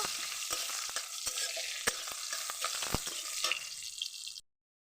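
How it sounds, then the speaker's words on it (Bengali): Green chillies and panch phoron fry in hot oil with a bright, close sizzle while a spoon scrapes and stirs in sharp repeated knocks, ending abruptly in silence. "লঙ্কা পাঁচফোড়ন ভালো করে ভেজে নেব"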